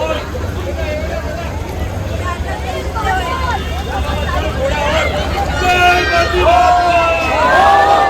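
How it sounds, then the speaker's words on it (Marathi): A dense crowd waiting for the Lalbaugcha Raja Ganesh procession in Mumbai fills the air with a steady babble of many voices, and sharp calls rise above it toward the end. "आपल्या राजासाठी गर्दी झालेली आहे"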